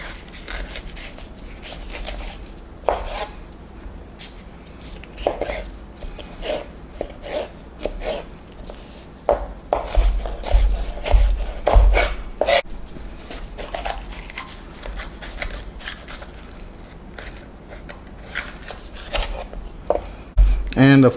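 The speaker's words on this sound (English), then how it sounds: "So now I am going to get into the slicing and dicing." A knife slicing and dicing vegetables for a chicken and shrimp stir fry, giving repeated irregular chopping and scraping strokes on a cutting board, close and fairly steady, with a person talking over much of it.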